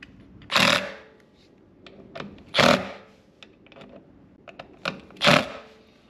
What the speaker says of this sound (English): I'll just put all the screws back in.